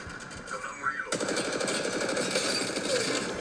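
Rapid automatic gunfire from the mobile battle-royale game Apex Legends Mobile bursts in after a quiet moment and rattles on continuously, loud and close, with a voice talking over parts of it.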